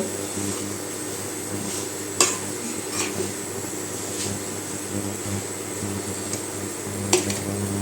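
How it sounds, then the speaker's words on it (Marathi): Raw mango pieces and jaggery being sautéed in a pan for a mango preserve. A spoon stirs with occasional sharp clinks against the metal over a steady background hum, and nobody talks. "आता हे पूर्ण आपल्याला परतवून घ्यायचं आहे"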